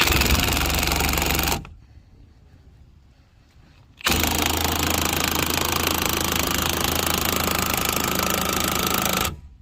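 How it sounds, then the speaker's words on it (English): An impact wrench with a 19mm socket spins lug nuts off a Ford Escape wheel during a tire change, giving two loud, sustained rattling bursts, a short one and then a longer one, with a brief quiet gap between them. "you're going to be really jealous about me doing it with the impact"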